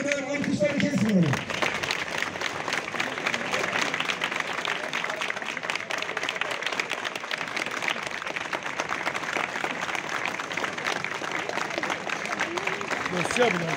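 A crowd applauds at a press statement, sustained dense clapping that carries on steadily for over ten seconds while voices talk over it.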